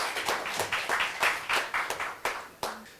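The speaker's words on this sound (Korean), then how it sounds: "큰 박수로 맞아주시고" Applause from a seminar audience in Korea welcoming a vaccine researcher to the podium for a biodefense talk, sparse individual claps at close range that rise and fade in uneven bursts, with no talking over them.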